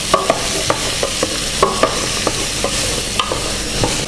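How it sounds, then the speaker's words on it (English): Onions, celery, carrots, star anise and chili sautéing in a pot for a beef stew, with a soft steady sizzle and a series of sharp spoon scrapes and knocks against the pot, close and clear with no talk. "You want to saute all this up until the onions turn translucent, not burnt, just translucent."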